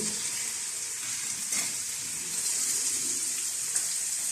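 Chicken cubes frying in a pan with garlic and onion give a steady, close hiss of sizzling oil, with a brief brighter crackle partway through and no talking.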